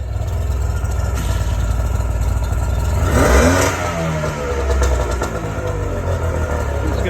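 A pontoon boat engine runs roughly and unevenly at close range, its low drone swelling in a rev near the middle before settling back to a rough idle, with no talk over it.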